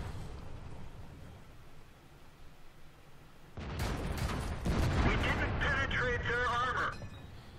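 Tank cannon fire and battle noise from the IS-8 heavy tank in World of Tanks on the Lakeville map: a few loud, dense gunfire bursts in the second half, following a low engine rumble, with a voice speaking over it.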